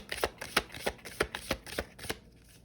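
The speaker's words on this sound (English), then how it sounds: "I'm gonna shuffle one more time." Tarot cards riffled and shuffled in quick repeated bursts, a crisp papery flutter about eight times over two seconds, close and clear, then quiet.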